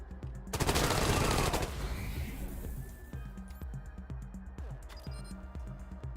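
Rapid gunfire bursts in the video game Wasteland 3: a dense, loud volley of automatic shots that fades into scattered game sound effects and a low ambient hum.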